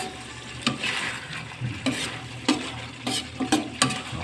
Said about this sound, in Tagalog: nadadinig niyo po yung lagaslas ng mantika.